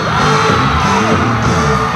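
Fans scream at a concert in Taiwan: a dense, loud wall of crowd shrieks and whoops sustained without a break.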